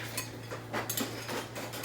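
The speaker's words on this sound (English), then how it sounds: "I'm going to take my zucchini and dump it in here" Chopped zucchini is dumped into a mixing bowl, with a few light clinks and soft thuds as the pieces land, close and quiet.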